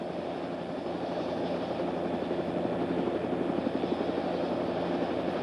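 A Bell OH-58 helicopter engine runs steadily before takeoff, a continuous turbine whine and rotor drone with a fast, faint pulsing that holds even throughout.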